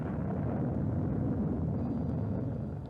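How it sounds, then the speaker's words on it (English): A Titan Centaur rocket launching from Cape Canaveral, carrying a Voyager spacecraft, in a Call of Duty: Cold War cutscene: a steady, dense, low roar that holds loud throughout and eases slightly at the end. "2 unmanned spacecraft, Voyager 1 and 2, lifted off from Cape Canaveral atop Titan Centaur rockets"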